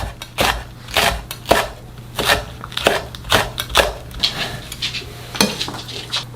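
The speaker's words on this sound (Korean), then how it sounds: "청양고추, 홍고추도 너무 크지 않게 송송송 잘라주세요." Cheongyang and red chili peppers are sliced on a cutting board with a knife, giving a run of crisp, close, evenly spaced chops, about a dozen sharp strikes in a loose rhythm with no talking.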